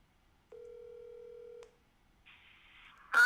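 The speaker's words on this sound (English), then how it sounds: "I'm calling Timmy" Phone call: a single steady tone sounds for about a second and ends with a click, a quieter buzzing ring follows, then a louder burst at the end, with no talking.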